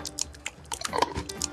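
A creature in the Feudal Alloy video game eats with wet crunching and smacking bursts, an irregular run of sharp chewing bites close up and with no talk.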